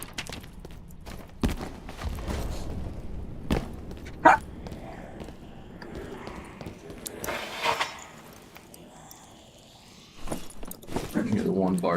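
A dog gives a single sharp bark in the middle, set against a murmur of background voices and scattered small knocks and rustles.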